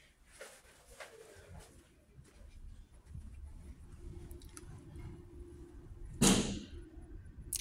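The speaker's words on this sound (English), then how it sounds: "This lady's over here punching walls now." A fist strikes a wall once during a tense records audit at a city clerk's office, landing as a single loud, sharp thud late in the clip over a low, steady room murmur.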